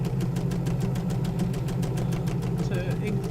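Sewing machine stitching a 3/8-inch seam on the bodice of an artist apron dress, a fast, even mechanical chatter with regular needle beats close by over a low motor hum.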